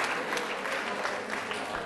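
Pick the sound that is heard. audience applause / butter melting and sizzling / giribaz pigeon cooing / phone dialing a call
audience applause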